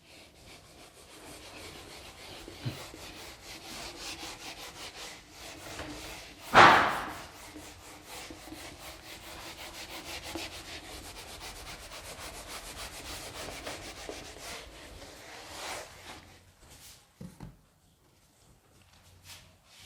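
Writing is rubbed off a board during a Class 11 kinematics lecture, giving a steady, close scrubbing that runs for most of the stretch, with one sharp knock partway through and a few quieter taps near the end.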